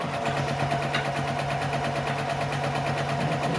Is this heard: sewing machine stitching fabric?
yes